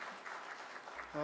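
Applause from the congregation at a church officers' meeting, a steady crowd clatter that runs the whole short stretch at moderate level, with a voice starting up near the end.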